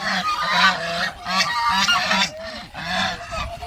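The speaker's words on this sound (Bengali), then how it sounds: "হাঁসগুলো ডাকতেছে দেখেন" Loud, repeated honking calls from ducks close by, coming in overlapping bursts with brief pauses between them.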